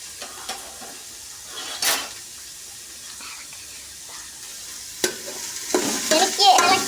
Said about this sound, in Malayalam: എനിക്ക് ഇളക്കിയാൽ കൈ കൊള്ളു, അതുകൊണ്ട് അമ്മ ഇളക്കുവാണേ.